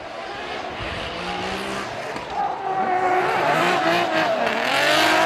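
Two drift cars at Formula Drift Japan initiate a tandem run, engines revving hard with rising pitch as tires squeal and skid, growing louder and closer across the stretch while a commentator talks over it.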